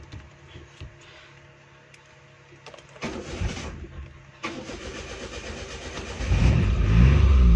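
A CNG/petrol car engine cranks after a few clicks, catches, and settles into a steady running rumble that rises as it revs up, close and loud with no talking.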